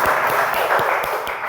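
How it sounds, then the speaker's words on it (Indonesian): An audience applauds in a short, dense burst of clapping that stays fairly loud and even before easing slightly at the end. "Tepuk tangan dong buat dia."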